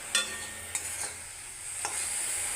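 Fresh garden vegetables fry in a pan, with a steady hiss and a few quick scraping stirs near the start and middle, no voices over it.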